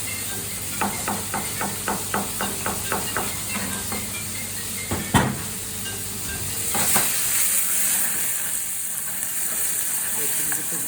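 Meat for çökertme kebabı frying over a hot fire, a loud steady sizzle and hiss, opened by a run of rhythmic knocking taps and a sharp clank before the frying swells on alone.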